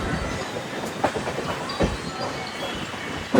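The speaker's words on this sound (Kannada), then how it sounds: "ನೋಡಿ ಇವಾಗ ಟ್ರೈನ್ ಹೊರಟಿದೆ." A train pulling out of a railway station, rumbling and rattling steadily with faint clickety-clack and hiss throughout, heard from on board or nearby; no voices.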